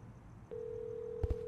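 A telephone in the video game Hello Neighbor gives a single steady electronic ring tone that sounds alone at moderate volume and is briefly broken by two low thumps near the end.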